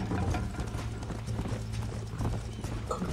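Galloping horse hooves in the Western video game Red Dead Redemption, a rapid, dense clip-clop rolling continuously and loudly under a thick wash of game noise, with no talk.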